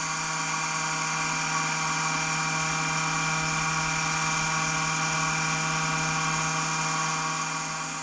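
A wood lathe spins at 1100 RPM while turning a wide piece of wood into an apple, giving a steady, continuous machine whir with a constant hum that holds unchanged throughout, close and alone.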